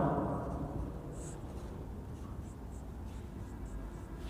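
Writing on a board during a vector calculus lecture, faint scratchy strokes in short bursts over a steady low room hum, quiet and without a voice over them.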